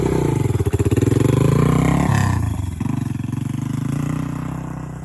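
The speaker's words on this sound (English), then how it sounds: "And Jacob's bike, the XL 250R." A Honda XL 250R dirt bike races on a backyard grand prix course, its engine roaring loud and close with rising and falling revs as it shifts and accelerates.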